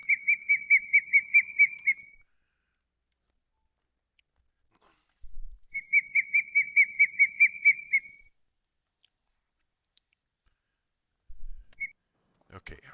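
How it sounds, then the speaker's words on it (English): Bird whistling in repeated bright trilled phrases of about a dozen quick notes each, two clear bursts separated by quiet gaps, with faint bumps and a short chirp near the end. "Okay, I've heard enough of that bird."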